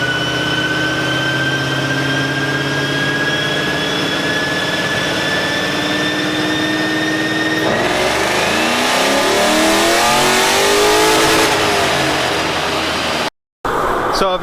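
Ford Mustang engine revving hard on a dyno, a loud sustained pull with rising pitch that climbs, peaks into a roaring sweep, then cuts off abruptly near the end.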